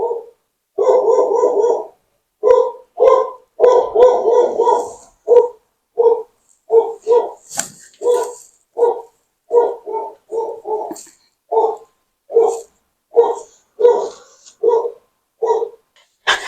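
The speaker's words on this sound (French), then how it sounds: "il y avait le chien qui aboyait" A dog barks repeatedly in a long series of sharp, evenly spaced barks, loud and close, with no talk over them.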